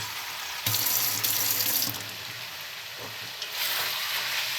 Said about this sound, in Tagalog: Lagyan ko muna siya ng kaunting tubig bago yung gata mamaya